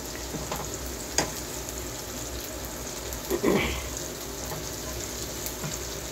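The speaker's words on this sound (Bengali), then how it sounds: "এখন আমি এটাকে পেঁয়াজের কিমাটা আর রসুনের কিমাটা একটু হালকা করে ফ্রাই করে নিচ্ছি।" Minced onion and garlic frying lightly in a pan make a steady sizzle, with a sharp tap and a short burst of stirring scrapes partway through.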